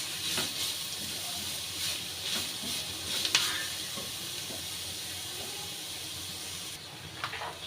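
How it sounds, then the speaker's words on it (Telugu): Vegetables for chicken noodles frying in a pan give a soft, steady sizzle and hiss with occasional light clinks of stirring, fairly quiet and without talk. "చూసారు కదా, వీటిని అయితే మనం ఫ్రై చేసుకుంటున్నాం."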